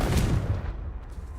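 A Confringo explosion spell in Hogwarts Legacy, a single loud booming blast up close that quickly decays into a rumbling tail.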